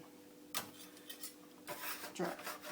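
A very thin metal spatula sets sand tart cookies onto a tray, with light scraping and clinking contacts, a couple of brief taps and a faint rub in a quiet kitchen.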